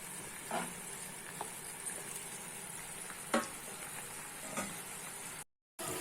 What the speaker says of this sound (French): les oignons commencent à caraméliser tranquillement